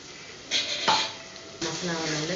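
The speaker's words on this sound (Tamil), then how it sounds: "எண்ணெயில் கிண்டி விட்டு கொஞ்சம் தேவங்கட்டும்" Ground masala paste is stirred and fried in oil in a pan, with a scraping spoon, a sharp clink against the pot, and a soft sizzle underneath.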